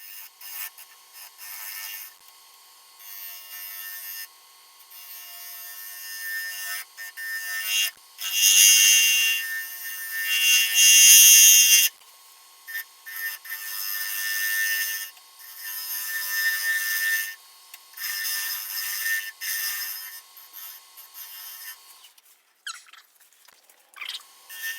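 A lathe tool scrapes the underside of a curly maple cake stand plate as it is trued, giving rough, rasping bursts of cutting that start and stop repeatedly over a steady motor hum.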